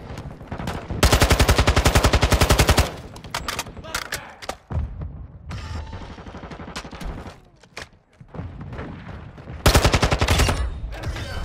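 Heavy automatic gunship fire in Call of Duty MWII on a 10v10 Shoot House match: loud rapid bursts at the start and near the end, with scattered shots and combat noise in between.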